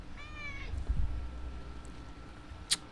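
An indoor pet cat gives a short rising meow near the start, followed by soft low purring and faint rustling, with a sharp small click near the end.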